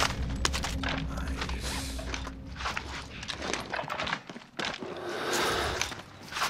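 AK rifle fire in a first-person shooter video game, with sharp repeated bursts of shots over a busy background of in-game sound, fairly loud and close, no talking.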